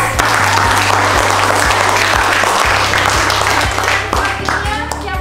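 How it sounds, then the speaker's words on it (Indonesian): Applause from a university pharmacy class fills the room, steady clapping from many students continuing for several seconds at close range, with some voices mixed in. "Kita kasih aplaus."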